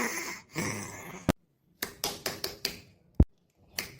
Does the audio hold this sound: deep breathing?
no